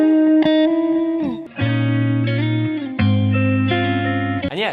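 An electric guitar lick played through effects, loud and up front, with distorted sustained notes sliding and changing pitch in a short phrase, no talking.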